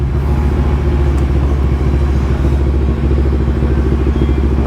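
The engine of an NK400 motorcycle fitted with a red exhaust and new elbow runs close by with a loud, steady, throbbing idle rumble that never lets up.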